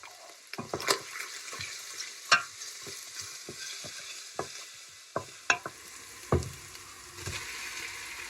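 Aromatics sizzle and get stirred in a pressure cooker for ox-cheek beef pares, with a soft frying hiss broken by scattered sharp scrapes and clinks of the utensil against the pot.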